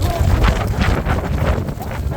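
Strong wind buffets the microphone with a steady low roar, blowing continuously outdoors.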